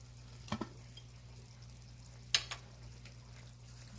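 A brown sugar sweetener and molasses mixture is stirred in a pan, a faint low simmering hum under two brief scraping knocks of the spoon, quiet and close.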